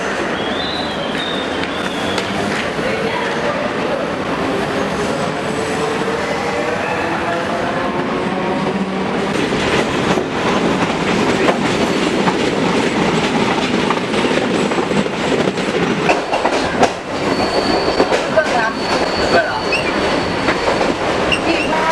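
A passenger train runs continuously with loud rumbling and clickety-clack from the wheels on the rails, some squealing, and the noise building after the midpoint, with faint voices in the background.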